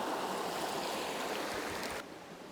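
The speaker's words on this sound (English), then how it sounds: "we can sneak up with the noise of the creek" Steady broadband rush of a creek flowing nearby in the bush, a continuous watery hiss that drops abruptly quieter near the end.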